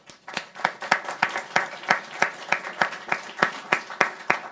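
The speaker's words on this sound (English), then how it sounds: "Let's give him a round of applause." Steady rhythmic applause from an audience, sharp claps repeating evenly about every third of a second, fairly close and uninterrupted.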